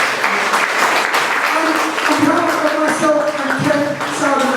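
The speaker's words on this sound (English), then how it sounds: "So a big round of applause for Andrew." Guests at a wrestling lunch and birthday celebration give a round of applause, dense clapping with cheering voices mixed in throughout.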